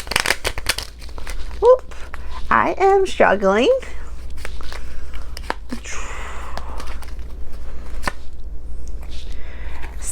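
A deck of cards being shuffled by hand, with crisp riffling bursts and soft slides and taps, close by, while someone talks over part of it.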